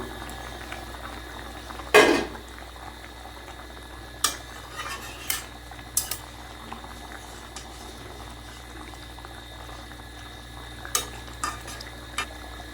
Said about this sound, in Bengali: মাছের ঝোলটা আমার ভালো করে ফুটে উঠেছে